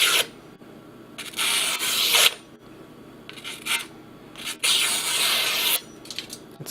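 A sharp LamsonSharp Rosewood Series knife slices cleanly through with several close, dry scraping strokes of varying length, separated by brief quiet gaps.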